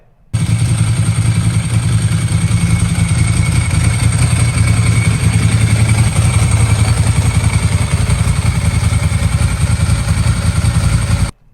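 A vintage Italian Ducati motorcycle engine idles steadily and loudly up close, a continuous throbbing, clattery rumble that runs without pause for about eleven seconds with no talking.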